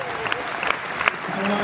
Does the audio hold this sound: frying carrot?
no